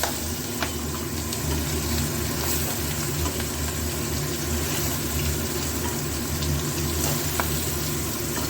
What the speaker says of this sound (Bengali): চিংড়ি মাছগুলোকে একটু উল্টে পাল্টে ভেজে নেব